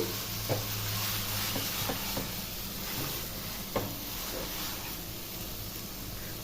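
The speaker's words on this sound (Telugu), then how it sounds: "ఇట్లా అడుగంటకుండా తిప్పుకుంటూ ఉండాలి పచ్చడి అడుగున మాడిపోయిద్ది" Coconut chutney fries in a pan while being stirred, giving a continuous close sizzling hiss broken by occasional scraping strokes of the spoon.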